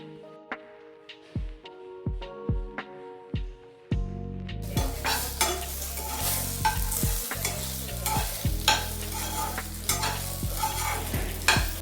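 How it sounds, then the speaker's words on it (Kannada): Cut okra frying in a spoonful of oil in a pan, first sharp, regular stirring clinks and scrapes against the pan, then a loud, continuous sizzle joins the stirring until the end. "ಈಗ ಪ್ಯಾನ್ಗೆ ಕಟ್ ಮಾಡಿರೋ ಬೆಂಡೆಕಾಯಿ ಹಾಕಿ 1 ಸ್ಪೂನ್ ಎಣ್ಣೆ ಹಾಕಿ ಫ್ರೈ"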